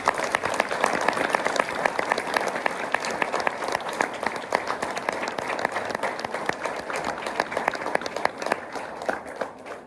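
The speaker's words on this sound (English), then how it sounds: "So should we give our choir a round of applause for supporting you this year?" An audience at a school event applauds the school choir, steady crisp clapping from many hands lasting about ten seconds and fading slightly at the end.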